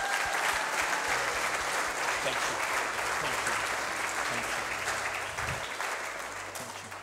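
An audience at a church inauguration service applauds, a dense, sustained wash of clapping that slowly fades, with a brief spoken thanks near the start.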